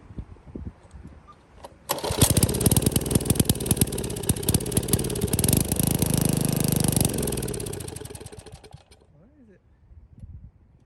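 Old 3.5 hp Tecumseh small engine running, loud and close, with a rough fast putter that holds for several seconds, then sags and dies, followed by quiet mechanical handling.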